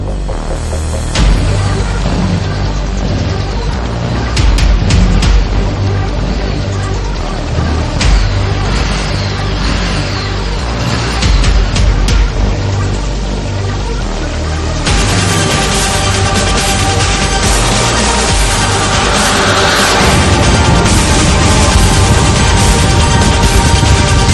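Steady engine drone from a Harley-Davidson Street 750 XG750 motorcycle while riding, a continuous throbbing hum with rising and falling revs and a shift in tone partway through, heard alone without talk.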